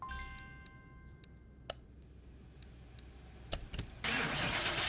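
Car engine cranking and catching on a dyno in Car Mechanic Simulator 2021, after a series of sharp ticks and clicks, then settling into a steady idle, nearby and fairly quiet, with no talk.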